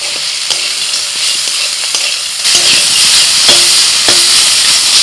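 Boiled greens stir-fry in a hot pan with fried peanuts, broken bori lentil dumplings and poppy seeds: a loud, steady sizzle with a few spoon scrapes, the hiss growing fuller and louder partway through.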